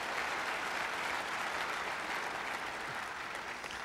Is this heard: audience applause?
yes